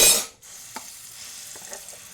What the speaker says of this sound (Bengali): ছোলার ডালটা যে পেস্ট করলাম, এটা এখন এই কড়াইয়ের মধ্যে ঢেলে দেবো